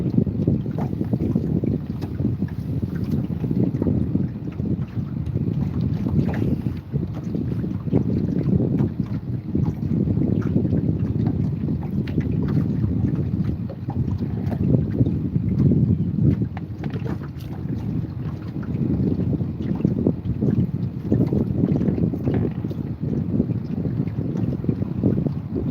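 A motorboat runs at full throttle on Lake Murray, a continuous low engine roar and hull rush heard from nearby, heavily buffeted by wind noise on the microphone throughout.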